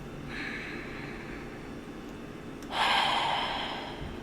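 A slow, deep breath taken close up during a calm guided meditation, a long soft inhale followed by a fuller, louder exhale, alone against quiet background hiss.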